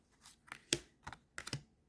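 Tarot cards are shuffled in a series of short, soft riffling bursts, about five quick clusters of papery snaps close by and fairly quiet, with no talking.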